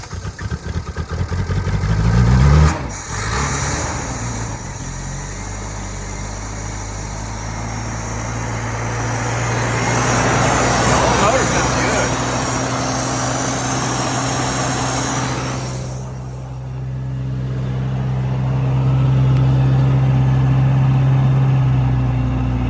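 A $500 Toyota pickup with a 22R engine cranks over, catches and keeps running, a close, loud engine note that revs up, settles and revs again over about twenty seconds.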